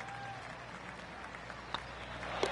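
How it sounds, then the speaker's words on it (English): Soft golf clap from a small gallery at the eighth hole of a golf tournament after an approach shot finishes about three feet from the cup, faint and brief over a low background hum. "That deserves a golf clap."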